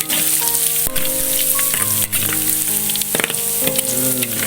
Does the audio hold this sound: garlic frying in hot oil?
yes